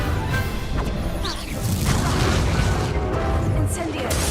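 A Confringo fire-spell blast in the Hogwarts Legacy video game sounds as a loud, dense burst. Thuds, crashes and whooshes from other spells and combat surround it, with shouted incantations mixed in.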